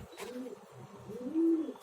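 Pigeons coo on a rooftop, several soft low throaty calls close by in a quiet outdoor setting.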